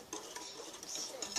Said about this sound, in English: mix it till it's done.